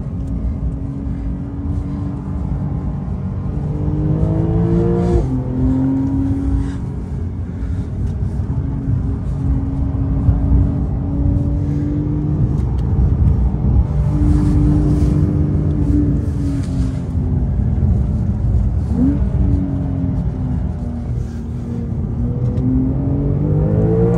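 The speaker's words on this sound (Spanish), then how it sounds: "Me callo un poco nada más para que escuchen el motor." A Porsche 911 Turbo S (992) engine roars continuously from inside the cabin, its pitch climbing through gears with brief dips at each shift, loud and steady throughout.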